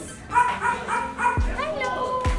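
Small dogs near a home in Abu Dhabi give excited, high-pitched yips and whimpering whines, several quick calls in a row, close and fairly loud.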